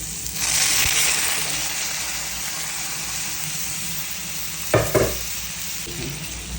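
Pointed gourd cooks in spice masala, sizzling steadily in the pan, with a couple of sharp clinks of a utensil near the end over the continuous frying hiss.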